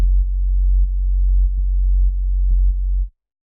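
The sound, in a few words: sidechain compression pumping effect in music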